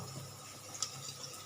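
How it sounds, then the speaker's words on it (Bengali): Water runs and splashes softly as a small bowl that held poppy seeds is rinsed at a kitchen sink, a brief steady trickle with a few light clinks, close and quiet. "এই বাটিটা যে পোস্ত রেখেছিলাম সেটাও আমি একটু ধুয়ে দিচ্ছি"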